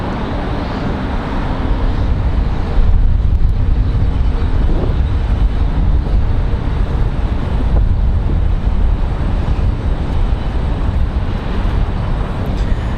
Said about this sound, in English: Dreamliner off and rolling